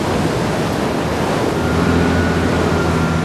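Ocean waves at an offshore wind farm roll as a steady, loud broadband wash with wind noise, continuous throughout with no voices.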